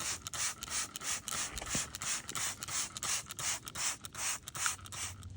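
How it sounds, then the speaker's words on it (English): A hand spray bottle fires quick repeated bursts of cartridge cleaner onto a pool filter cartridge. The hissing spritzes come close together at a steady pace, close up and fairly loud. "we're going to spray it with this cartridge cleaner"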